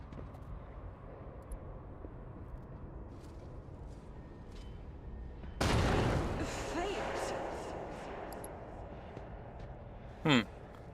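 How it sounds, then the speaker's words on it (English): Detonation in Warhammer 40k Rogue Trader: a sudden loud blast bursts out after a low ambient stretch, then a rumbling decay trails off, with a short sharp chime near the end. "Weird that that detonated but didn't actually hurt anyone"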